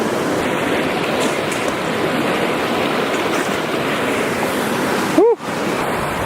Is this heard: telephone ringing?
no